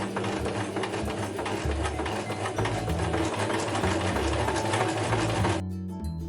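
Sewing machine stitching a waistcoat lining, a steady fast mechanical chatter running continuously at close range before stopping abruptly near the end, no voices.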